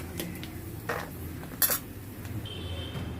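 Roasted peanuts are scraped out of a pan while making curry leaf chutney, giving a few quick metallic clinks and scrapes of a utensil against the pan, close and moderately loud, with no talking.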